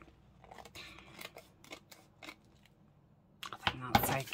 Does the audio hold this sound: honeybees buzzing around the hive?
no